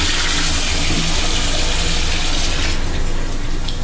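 A hotel toilet flushes with strong suction, a loud, close rush of water that roars steadily for several seconds and eases slightly toward the end, heard alone without talk.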